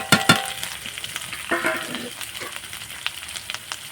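Ground salt, turmeric, chili, cumin and coriander powder hit the hot pan for an elephant foot yam and prawn curry: two sharp clanks at the start, then a soft sizzle and scattered stirring taps.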